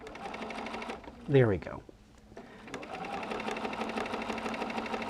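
A sewing machine hums steadily while stitching a Drunkard's Path quilt block, pausing briefly as a person speaks, then running on evenly close by.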